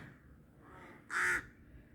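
A single loud crow caw rings out clearly in Zhytomyr, with quiet background before and after.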